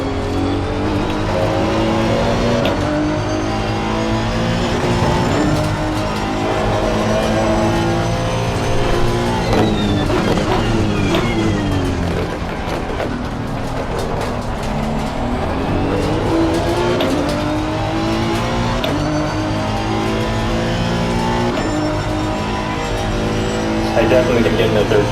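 A Honda NSX GT3 race car laps Circuit of the Americas in the racing game Assetto Corsa Competizione, its engine note climbing and dropping through gear changes with brief tire squeals, continuous and close throughout.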